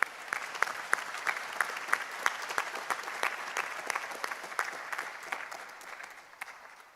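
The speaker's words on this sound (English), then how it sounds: "clap for them." Sustained audience applause at an awards student forum, dense steady clapping from a crowd lasting the full stretch at moderate loudness, with no voices over it.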